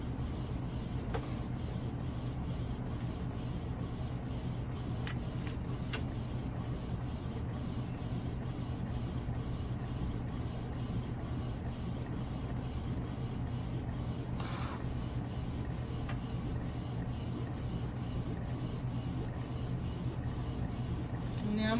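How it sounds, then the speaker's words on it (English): An edible-image printer runs steadily through a cake print, a continuous mechanical whirr with regular rapid carriage passes and a high repetitive buzz, close and constant with faint background noise. "Now I'm gonna have to print 3 of these all together"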